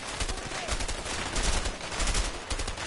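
Rapid bursts of game gunfire crackle through a busy firefight in the co-op prison-escape game A Way Out, dense and continuous with a few louder volleys, no speech over it.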